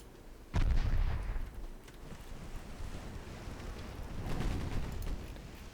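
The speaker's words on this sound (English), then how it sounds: "There we go, 7-inch guns are firing." In a warship video game, 7-inch naval guns fire a single heavy boom early on, then low rumble and wind-like sea noise continue with a softer swell near the end.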